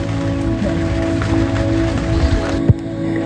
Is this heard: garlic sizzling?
no